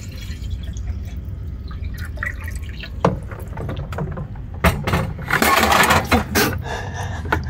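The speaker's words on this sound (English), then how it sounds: "I'm going to fill up our water bottles with the water that's melted." Melted ice water drips and trickles into water bottles, quiet at first, then splashing in louder bursts toward the end, with a low background hum and no talking.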